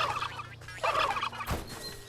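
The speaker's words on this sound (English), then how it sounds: "Oh, oh! Turkeys be angry! Angry, oh, angry turkeys!" Angry turkeys gobbling in the indie video game Wytchwood, several rapid rattling gobble bursts in close succession, fairly near and clear with no talk over them.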